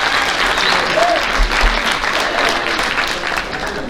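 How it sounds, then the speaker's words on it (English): Sustained applause from a crowd at a high school athletic banquet honoring the JV boys track team, steady and fairly loud clapping filling the room for several seconds with a faint murmur underneath. "Let's give them one more round of applause for the JV Boys Track."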